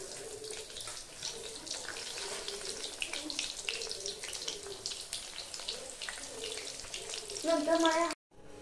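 Crab lollipops frying in hot oil, a steady close crackling sizzle throughout that swells near the end before cutting off abruptly, no talking.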